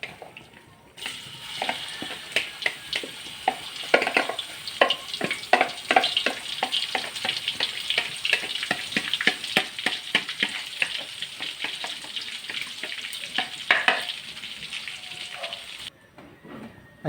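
Onion and garlic sautéing in hot oil in a pan, a dense, busy crackle of spitting and popping close up that runs for most of the stretch and then stops abruptly.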